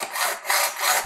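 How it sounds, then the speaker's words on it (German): Metal hacksaw cutting an aluminium window screen frame profile held in a miter box, two close, rasping back-and-forth strokes with a brief pause between them, alone without talk. "verwende ich einfach eine ganz normale Metallsäge und eine sogenannte Gärungslage"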